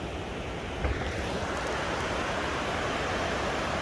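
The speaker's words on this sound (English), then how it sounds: "we've made it back down to the river" A mountain river rushes steadily nearby, a broad continuous roar of flowing water with a little wind buffeting the microphone, no voices over it.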